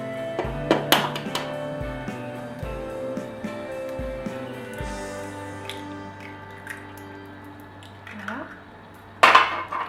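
A utensil clinks and scrapes against a Cookeo pot while pasta carbonara is mixed with egg, with several knocking taps early on, a low hum underneath and a sharp clatter near the end.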